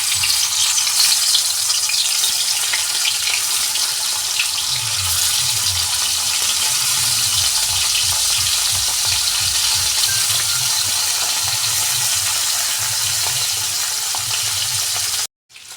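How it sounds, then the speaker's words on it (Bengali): Belle fish sizzle steadily in hot oil in a kadai, cooking for a spicy curry with potato and tomato. A dense, even crackle runs close and continuous throughout, with a low bubbling underneath and no voices. "তেল গরম হয়ে গেছে, এবার মাছগুলো ভেজে নেব।"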